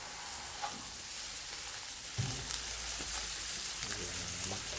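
Small iguana curry frying in a pan, a steady soft sizzle running throughout with faint stirring clinks and scrapes layered over the hiss.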